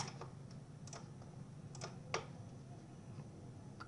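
Sparse keyboard taps and clicks at a computer while working in Altium's schematic editor, a few soft, irregularly spaced keystrokes over low room hum.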